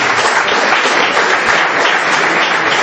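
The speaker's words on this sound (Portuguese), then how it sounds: "Mais palmas para Jesus" A church congregation at a Portuguese-language evangelical service claps for Jesus, producing loud, dense, continuous applause that fills the room evenly from start to finish with no voices on top.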